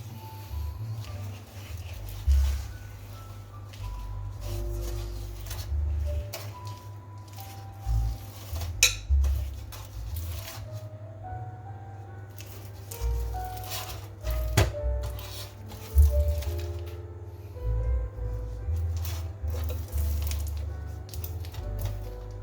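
Gingerbread batter being mixed by hand in a bowl, with irregular knocks and scrapes of a utensil against the bowl and wet squishing, close up and without speech.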